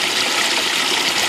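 Water from a bilge pump pours steadily into a cooler chest rigged as a fishing livewell, a loud, continuous splashing rush heard close up with no pauses.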